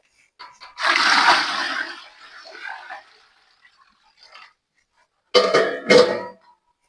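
Water gushes from a pipe into buckets at night in irregular splashing bursts, with a long spell of pouring, quiet gaps, then two short loud surges.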